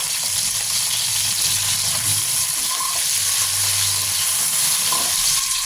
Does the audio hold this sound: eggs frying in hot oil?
yes